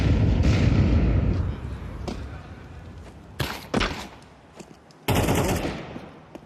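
Gunfire in a competitive shooter video game: a heavy burst of shots at first, then several sharp separate pistol cracks with short pauses, one loud close volley near the end.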